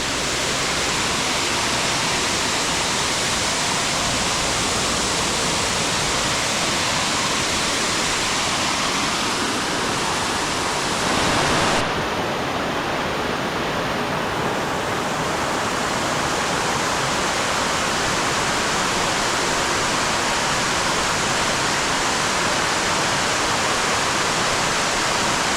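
A waterfall at Fridays Creek near a weir, Coffs Harbour NSW, roars in a constant, loud, close wash of rushing water that continues without a break.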